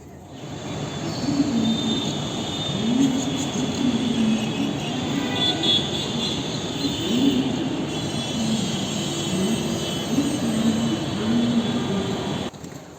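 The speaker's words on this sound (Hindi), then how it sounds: "इसी दूसरी मेट्रो में बैठ गए थे हम।" A metro train rumbles along from inside the car, with a steady roar of wheels on track and faint rhythmic clatter, no voices; Indian metro.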